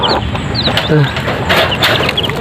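Chickens and young chicks on a farm: soft clucks and high, thin peeping calls scattered throughout, close by, with a person speaking over them.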